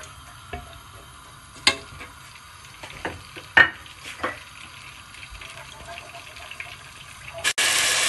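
Ginger and garlic paste frying in a pan with browned onions, a low steady sizzle with occasional sharp stirring clanks, ending in a sudden loud hiss near the end.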